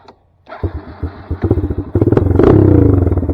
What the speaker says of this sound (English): Now this is what I mean by blipping the throttle